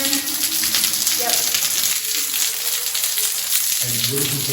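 Water flowing and rushing steadily through Mammoth Cave in Kentucky, a continuous broadband gush filling the space, with faint voices and some tonal interference over it.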